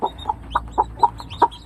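A hen gives soft, rhythmic clucks to comfort her chicks in a backyard coop, about six short, close calls spaced evenly over a quiet low background.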